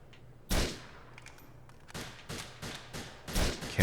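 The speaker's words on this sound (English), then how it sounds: "I keep forgetting this is a semi-automatic rifle." Semi-automatic rifle in Grand Theft Auto IV, several sharp shots fired one at a time at uneven intervals, each a loud close crack with a short decaying tail.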